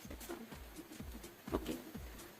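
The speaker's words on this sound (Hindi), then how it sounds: "बारिश बहुत तेज हो रखी है यहाँ पे" Heavy rain falls in a steady, faint patter and hiss that runs throughout, with no one talking.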